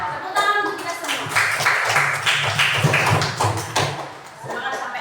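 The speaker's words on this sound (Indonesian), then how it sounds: "Tepuk tangan untuk kita semua." A class of schoolchildren claps hands together in a classroom during a morning lesson, a run of sharp, quick claps filling the room with voices talking and calling out over them.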